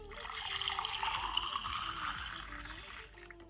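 Hot water runs steadily from a household tap, a close, even hiss and splash that holds for a few seconds before easing off.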